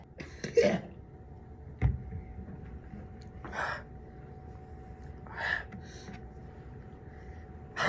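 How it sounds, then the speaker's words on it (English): A few short coughs and throat-clearing bursts from one person, close to the microphone, spaced apart over a quiet room background with no talking. "I coughed, I'm sorry."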